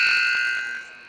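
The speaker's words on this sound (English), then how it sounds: "Tie up behind the net, and that'll be the buzzer." A long electronic buzzer sounds the end of a period at an ice hockey game between the Flyers and DBQ, a loud sustained tone that holds steady and then tapers off near the end.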